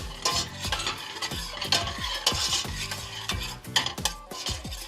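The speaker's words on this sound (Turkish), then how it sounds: "Şöyle hemen soğanımı etimi karıştırıyorum." Onions and meat being stirred in a pot as they fry, with a steady sizzle and repeated scraping strokes of a spoon against the metal, close and fairly loud, with no voices.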